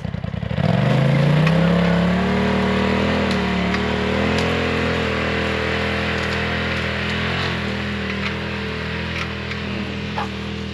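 A four-wheel drive vehicle on the Evans Creek ORV trail in Washington State revs hard, its engine climbing in pitch and then holding a loud, sustained drone with faint clatter, close by and without talk.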